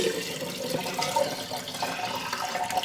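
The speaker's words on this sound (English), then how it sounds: "So I just put them in the bottom of my sink there and pour, hopefully without spilling." Homemade chicken stock is poured into mason jars standing in a sink, a continuous gurgling, splashing liquid stream at close range.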